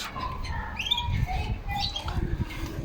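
Many canaries chirping and tweeting close by in a busy, overlapping chorus, with faint background noise.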